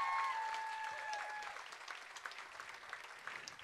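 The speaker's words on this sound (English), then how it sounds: "How about a big round of applause once again for?" Audience applause at a singing contest, steady clapping across a room that fades slightly partway through, with a few faint voices and tones mixed in.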